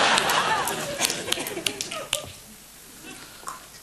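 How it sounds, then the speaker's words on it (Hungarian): Practiced finger snaps on a Hungarian comedy show stage, several sharp clicks spread over a few seconds amid soft background talk and room noise, fading to near quiet before a last snap. "Természetesen gyakoroltam ezt a csettintést."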